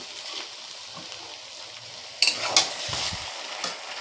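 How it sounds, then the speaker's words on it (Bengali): Mutton frying with added fat while being stirred for kosha, giving a steady close sizzle with a few sharper spatters and scraping sounds and no talk. "চর্বিটা দিয়ে আরও মিনিট খানেকের মতন কষিয়ে নেব"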